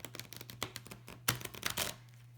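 Tarot cards are shuffled in short, crisp riffles and taps, quiet and close, with one sharper snap midway.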